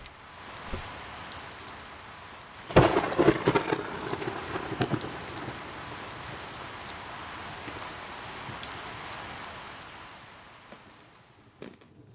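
Video game hailstorm with thunder and rain, a steady patter of rain with a sudden loud burst of crackling impacts and rumbling partway through, then the downpour continuing and fading near the end.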